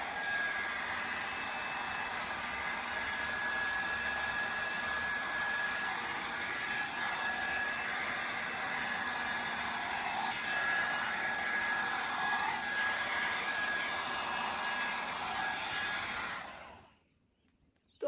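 A Havells Air Care Styler HC4085 hot air brush blows with a steady, close whooshing hiss and a faint high whine, running continuously before cutting off near the end, with no voices.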